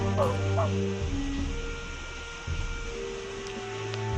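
In the video game Black Border 2, a sniffer dog at a border checkpoint gives two quick barks near the start, then a low background hum carries on.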